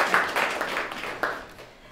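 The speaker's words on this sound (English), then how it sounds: "Let's give him a round of applause." A graduation ceremony audience gives a short round of moderately loud applause that quickly tapers off and fades.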